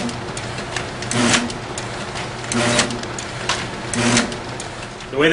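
OKI proColor DP series feeder and discharge conveyor running, a steady mechanical hum with repeating whirring bursts at roughly regular intervals, close and moderately loud.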